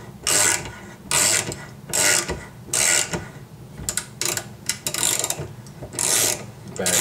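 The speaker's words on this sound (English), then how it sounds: "anytime you're tapping, you just want to make sure you're going it straight" A tap cutting threads into an LS turbo oil pressure port, ratcheting in loud repeated bursts with short pauses between turns, close and with no voices.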